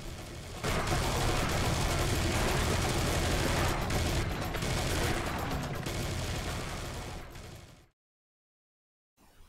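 Sustained, dense minigun fire from Serious Sam 3: BFE, a continuous loud roar of rapid shots mixed with game noise for about seven seconds before cutting to silence.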